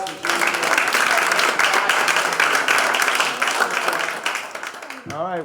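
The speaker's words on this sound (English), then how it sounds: "How about a round of applause for" A seminar audience at a USGBC Texas session on chemicals in products applauds in a steady, dense burst of many hands that fills the room for about five seconds, then breaks off abruptly near the end.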